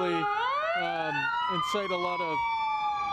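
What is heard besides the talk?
police car and ambulance sirens passing by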